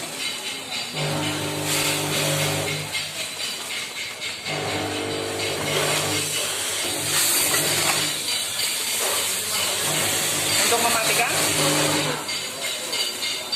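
An automatic VFFS packaging machine runs nearby with a steady mechanical hum and hiss, interrupted by repeated cyclic bursts of pneumatic hissing and clattering, with some talk.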